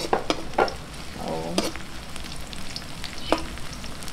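Onions sautéing in a frying pan for a Cebu-style banana meat dish, a steady broadband sizzle with several sharp scraping stirs of a utensil against the pan, close and fairly loud, no talking.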